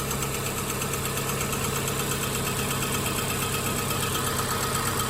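Steady close-up idle of a 2011-2017 VW Jetta 2.0 liter engine after a camshaft position sensor replacement, an even, continuous hum with a faint ticking texture and no voices.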